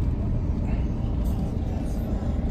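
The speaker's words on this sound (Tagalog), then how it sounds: "Pero maraming truck. Sasakyan. May mga sasakyan din." Trucks and other vehicles on a road produce a continuous heavy low rumble of engines and tires, close and steady throughout.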